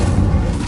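The Incendio fire spell cast in the video game Hogwarts Legacy, a loud, dense whooshing roar of flame that fills the whole short burst with a deep booming low end, heard alone.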